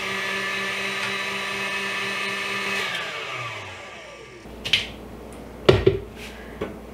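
A stand mixer whisks thick, fluffy marshmallow at high speed, a steady motor whir that winds down and stops partway through, followed by a few sharp clinks and taps.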